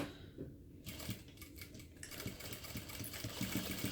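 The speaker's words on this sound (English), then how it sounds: "we will start sewing down here, just a couple inches below where the top of the gusset is" A sewing machine stitches a crossbody bag near the gusset, running in short bursts, then steadily and loudly with a fast mechanical rattle, no voices.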